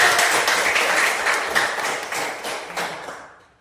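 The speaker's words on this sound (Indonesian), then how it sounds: "tepuk tangan untuk Febi" A classroom group claps for a student named Febi, a moderate burst of mixed hand claps that is strongest at first and thins out and fades toward the end.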